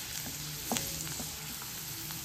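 Garlic frying in oil with mustard seeds and cumin makes a soft, steady sizzle with small pops and a faint clink partway through, heard alone without speech.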